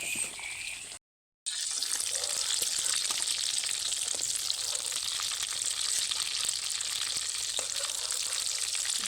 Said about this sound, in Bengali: পটলগুলো ভালোভাবে ভাজা হয়ে গেছে